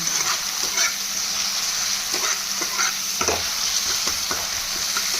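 Chilli powder with turmeric and cumin being stirred and fried in a pan for a fish-head muri ghonto, a steady sizzle with scraping stir strokes throughout, close and alone with no talk.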